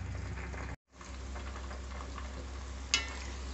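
Rose petals frying in hot oil while being stirred, a steady close sizzle with faint scraping and a brief break partway, followed by a sharper crackle near the end.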